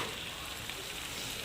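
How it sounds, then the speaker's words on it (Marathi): Spices sizzle and fry steadily in hot oil in a pan while the tempering for dal tadka is stirred, a dense, continuous close-up crackle with no talking. "छान मस्त 2 ते 3 मिनटं असं परतून घ्यायचा."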